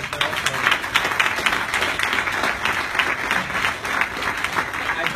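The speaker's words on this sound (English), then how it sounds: "if you could join me in giving all of them a round of applause" An audience at a 2016 HLPF country panel on SDG data collaborations applauds the panelists, a steady, dense wash of clapping filling the room for several seconds with no pause.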